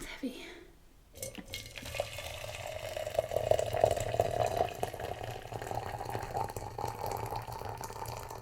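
Freshly boiled water pours from a heavy kettle into a teapot holding two tea bags, a steady close splashing stream that follows a brief knock and runs for several seconds.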